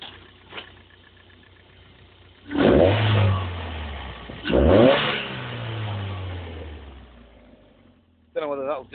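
An MGF with a VVC engine is revved twice in quick succession, each rev a sharp rising roar that falls back to a low idle, with a third blip starting at the end.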